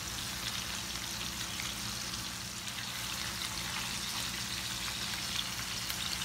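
Hamburger patties for Salisbury steak sizzle steadily in a hot pan as they are flipped, a continuous soft crackling hiss with faint pops throughout and no voices.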